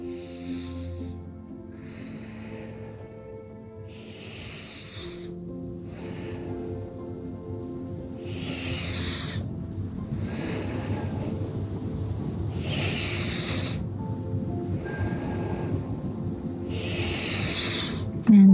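Slow, deep yoga breaths through the nose and mouth, close and audible, with long hissing inhales and exhales repeating about every three to four seconds beneath soft background tones and a faint voice.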